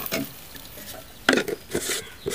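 Besan curry masala with salt being stirred and roasted in a pan: a few distinct scraping and clattering bursts of spoon against metal over a quiet, faint background sizzle.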